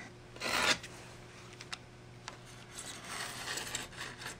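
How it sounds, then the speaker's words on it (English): Rubberized cork and tape being trimmed for a clip-on table saw infeed support gives a quiet, close rasp and a few scraping strokes, followed by light rubbing and small ticks. "Then I can trim off the tape and the cork all at once."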